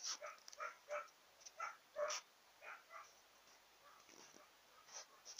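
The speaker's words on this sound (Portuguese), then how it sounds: "Desculpem se vocês estão ouvindo os cães latindo" Dogs bark in short, faint, scattered yaps from somewhere away from a quiet indoor craft session. The barks come in small clusters with gaps of near silence.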